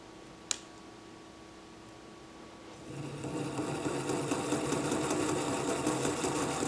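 A homemade automatic coil winding machine spins up after a single sharp click, filling a small bobbin with a steady, fast, buzzing whir that rises and holds at a constant pitch, close and alone.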